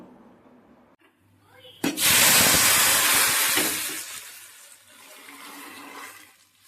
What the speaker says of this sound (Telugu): ఇంకా సాంబార్ అయితే తాలింపు పెట్టేశాను